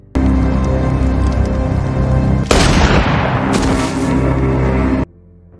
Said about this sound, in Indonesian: Tanpa basa-basi, langsung menembak Bridget hingga tewas di tempat